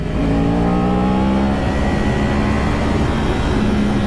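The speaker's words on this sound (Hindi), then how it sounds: "भाई 10R को पेल रही है भाई पहले गियर में।" A 10R superbike is revved hard in first gear, with a loud, close, high-pitched engine scream that climbs and holds. The roar stays strong and unbroken throughout, with no voices over it.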